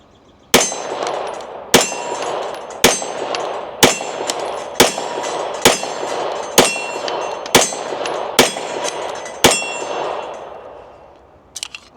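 Pistol shots at about 10 yards ring off a steel target, ten sharp cracks each followed by a bright metallic clang, spaced roughly a second apart at a steady rhythm, loud and close.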